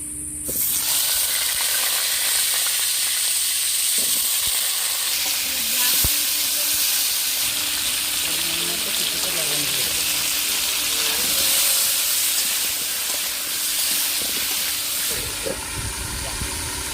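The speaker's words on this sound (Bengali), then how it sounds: "রান্না করার জন্যে আলুটা ভেজে নিচ্ছি কড়াইতে তেল দিয়ে দিচ্ছি" Potatoes fry in hot oil in a kadai, giving a steady, close hissing sizzle that runs almost unbroken from start to finish, with faint clinks and kitchen sounds underneath.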